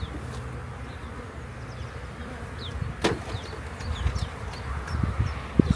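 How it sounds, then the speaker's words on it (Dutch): Honey bees buzzing around an opened hive frame, a dense steady hum close to the listener with individual bees droning past, a few light knocks and handling noises, and no talking. "Je krijgt er nog een raampje met bijen bij."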